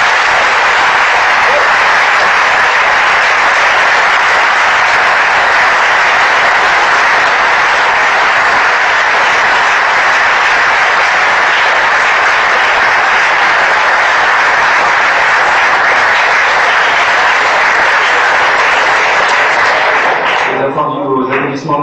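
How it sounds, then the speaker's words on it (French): A lecture hall audience at an evening debate gives steady, sustained applause, a dense even wash of clapping that holds at full strength for about twenty seconds before tapering off at the end. "Vos applaudissements nourris"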